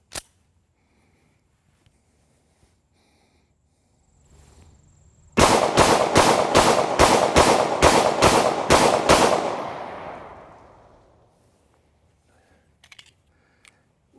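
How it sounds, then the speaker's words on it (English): Springfield Armory SA-35 pistol fired rapidly about ten times in an even, fast rhythm, loud and close, each shot sharp, with a reverberant tail fading afterwards; quiet before and after. "I'm just going to open up on it sort of as fast as I can pull the trigger"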